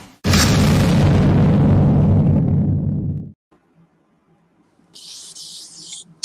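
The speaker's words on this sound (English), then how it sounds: "Explosions." A loud, deep explosion sound effect opens a sports betting podcast intro. One sustained roaring boom decays over about three seconds, followed by faint crackling and a brief high hiss.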